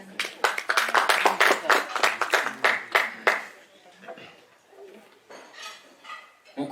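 Audience at a book launch claps in a brisk, loud round of applause for about three seconds, then it fades into quieter crowd murmur and scattered noise.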